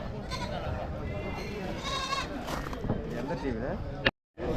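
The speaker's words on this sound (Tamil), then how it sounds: "ஒரு நாலு ஆடு இருக்கு நாலு ஆடு இருக்கு" Several goats bleat at a busy Monday livestock market held before Diwali, with wavering calls rising above constant crowd chatter and nearby talk.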